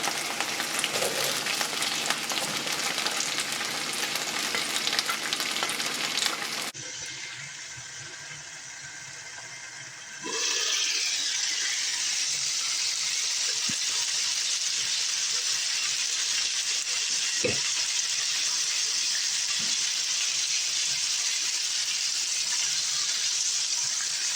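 Chicken and vegetables fry in a pan, a loud, steady sizzle running throughout with a brief quieter stretch before it surges back, no voices.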